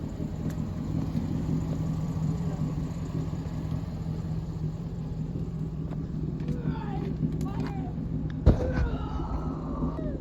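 A car engine idles in a steady low rumble throughout while people talk nearby, with a sharp knock near the end.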